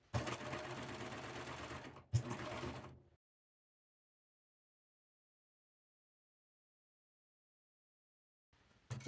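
A sewing machine stitches a sleeve seam in a close, steady mechanical whir, with a brief pause and restart, then stops into silence before starting again at the end.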